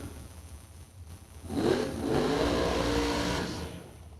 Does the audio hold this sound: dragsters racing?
yes